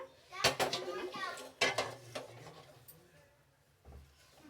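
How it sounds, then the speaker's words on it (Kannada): A metal idli pot clanks as it is set down for steaming, with sharp clattering knocks of utensils against each other, mixed with a person talking and a voice nearby. "ಇಡ್ಲಿ ಪಾತ್ರೆ ಇಡ್ತೀನಿ ಒಂದು ಕಡೆ, ಹಬೆಗೆ"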